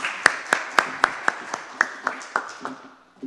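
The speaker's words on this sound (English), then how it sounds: "Sandy, I think she deserves a round of applause" A small audience at a refugees and immigration event claps slowly and sparsely, about ten distinct, evenly spaced claps that thin out and stop after a few seconds.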